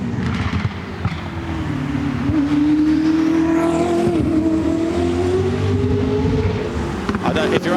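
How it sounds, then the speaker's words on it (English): A 2022 Koenigsegg CC850 accelerates up the Goodwood Festival of Speed hill, its engine note rising loud and close as it pulls away, shifting and climbing in pitch while a commentator talks over it. "Absolutely phenomenal sound for the CC850 from 2022, making its way up the hill."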